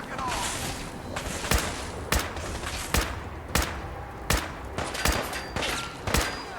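Gunshots in Fallout 4 ring out as about a dozen sharp cracks at uneven intervals, some close together, over a constant rumbling background, with a voice talking faintly underneath.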